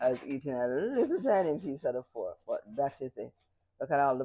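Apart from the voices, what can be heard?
No distinct noise like a dog, phone or traffic.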